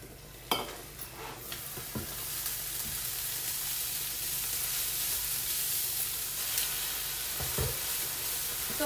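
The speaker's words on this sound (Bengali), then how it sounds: "তো ভাজাটা হয়ে গেছে" Chopped banana flower frying in a pan, giving a steady close sizzle and crackle throughout, with a few stirring scrapes near the start and end.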